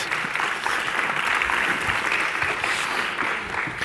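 An audience applauds at a policy conference on work-life balance, sustained dense clapping at an even level throughout.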